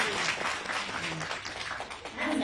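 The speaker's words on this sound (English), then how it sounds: "Another round of applause" An audience claps through a short stretch, a rough, uneven burst of applause with voices mixed into the noise.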